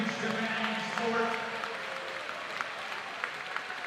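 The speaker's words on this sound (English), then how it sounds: "let's give a big round of applause to all these coaches and educators" Crowd applause for coaches and educators at a state high school boys swimming and diving finals, steady clapping filling the indoor venue, with an announcer's voice over it at the start.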